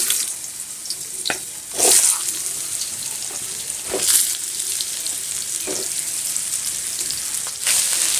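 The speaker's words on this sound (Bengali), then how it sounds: "প্যানটা আমি বসিয়ে তেলটা আমি দিয়ে গরম করে নিয়েছি। এর মধ্যে আমি এখন পটলগুলো দিয়ে দেব।" Pointed gourd frying in hot oil in a pan, a steady close sizzle with several louder hissing bursts as the pieces are stirred.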